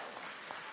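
A brief burst of audience applause fills a hall at an 8th grade recognition ceremony, heard as a dense, even wash of clapping.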